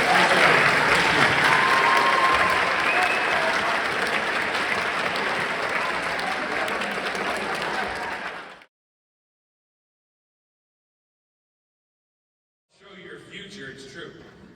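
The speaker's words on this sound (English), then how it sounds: "Big round of applause for this." School assembly audience of eighth graders applauding loudly and steadily for about eight seconds, then cutting to silence before a shorter burst of clapping returns near the end.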